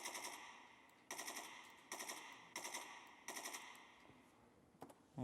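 Full-auto bursts from an RPK-74-fed rifle in Escape From Tarkov, four sharp sustained volleys of rapid fire, each about half a second long, separated by short pauses, fairly close and clear with no talk.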